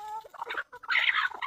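Free-range country chickens cluck briefly nearby in a village, a short burst of fowl calls at moderate volume.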